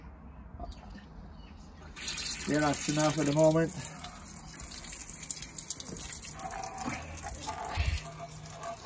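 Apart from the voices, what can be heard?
water from a hose running into a sewer drain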